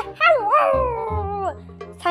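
A cartoon dog in the Toca Life World game gives a loud, close, whiny howl that rises and falls over about two seconds, with a short yip near the end.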